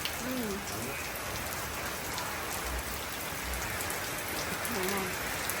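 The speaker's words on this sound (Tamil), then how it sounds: "நல்ல மழை இன்னைக்கு" Steady rain falls in a dense, even patter, moderate and continuous across the whole stretch, with faint voices briefly audible under it.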